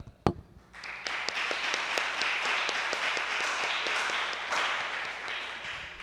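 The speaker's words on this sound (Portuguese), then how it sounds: "Vamos aplaudir a palavra do Senhor?" Congregation applauding during a live church service, a steady dense wash of hand claps after an opening thump, continuing for several seconds with a faint low hum underneath.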